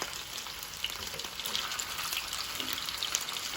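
Chiftele meatballs fry in about six tablespoons of vegetable oil in a pan over low to medium heat, giving a steady, soft sizzle with scattered small pops.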